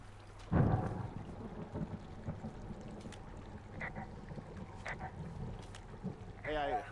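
Thunder in the Firewatch video game rolls in as a single deep, muffled rumble near the start and then fades into a low wilderness ambience, with voices speaking over it.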